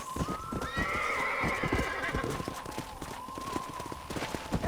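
In the video game Red Dead Redemption, a horse whinnies loudly near the start while hooves clip-clop in a quick, steady rhythm throughout, close by, near a corral.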